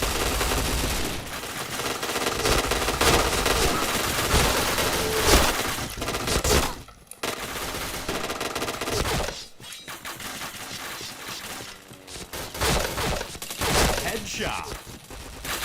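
Rapid automatic gunfire from the online shooter Point Blank, dense bursts and fusillades running almost continuously with brief pauses, loud and close, with a voice talking over parts of it.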